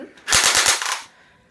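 M4A1 rifle firing a quick automatic burst of about four or five sharp close shots in well under a second, followed by a fading echo.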